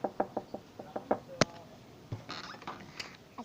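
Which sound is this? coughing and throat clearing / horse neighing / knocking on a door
knocking on a door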